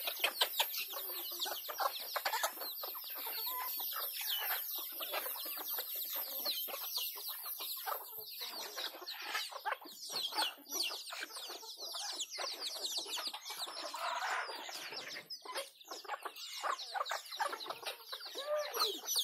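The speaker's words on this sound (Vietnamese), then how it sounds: "Con gà trống nghe nó nhát quá ha." Hybrid jungle fowl, fed corn and raised from young, cluck and call repeatedly and close by, dense overlapping bird sounds with no talk.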